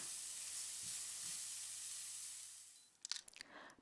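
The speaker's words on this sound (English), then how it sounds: "Melt the butter in a frying pan and fry the onion over medium heat" Steady hissing sizzle of onion frying in butter in a pan over medium heat, even and close, fading out before a few clicks and clatters at the end.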